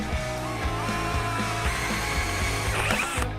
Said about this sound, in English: We've got a 1/2 inch drill bit, drill a hole right into one of our caps.